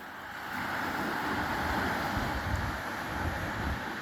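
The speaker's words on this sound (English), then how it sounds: "Waves crashing away." Waves crashing on La Mata Beach at night, a steady broad wash of surf rolling continuously with some wind noise, fairly loud and unbroken.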